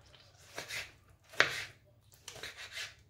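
A knife dices a tomato into cubes on a board, with three or four close, crisp chopping strikes spaced unevenly and quiet gaps between them.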